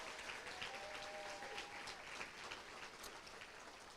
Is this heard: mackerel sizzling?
no